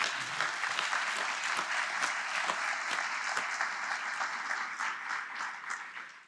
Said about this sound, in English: give those fine folks a round of applause